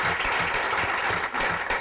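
Conference audience at the GetxoBlog 2017 event breaks into steady, dense applause, a brief burst of many hands clapping together.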